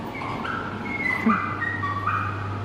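A dog left tied up outside whines and whimpers in high, drawn-out cries, with a couple of short yips breaking in, fairly close, over a low steady hum, in Mulhouse, France.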